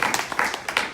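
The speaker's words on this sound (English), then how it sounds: "So I will give a round of applause for that." A round of applause at an alumni chapter meeting, several sharp claps in quick irregular succession from a small group, fairly close.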